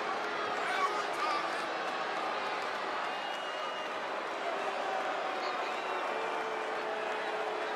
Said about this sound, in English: Listen to this crowd, guys. They're fired up for this one.